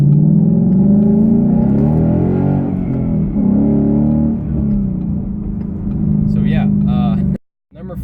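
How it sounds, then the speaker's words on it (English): A 2015 Ford Mustang GT V8 fitted with a Ford Racing X-pipe exhaust idles with a loud, deep, steady rumble and swells briefly as the revs rise, heard close, and then cuts off abruptly near the end. "This V8, I don't know if you can hear it or not on the camera, but I put a exhaust on here"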